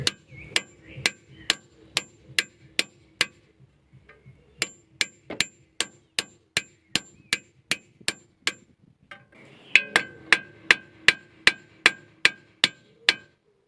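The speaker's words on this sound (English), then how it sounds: "put my socket over it, and put an extension bar on that. Then just give it a whack." Repeated hammer blows ring out on a socket and extension bar set over the nut of an outer tie rod on a Mini R50/R53, about two dozen sharp metallic strikes in steady bursts with brief pauses between.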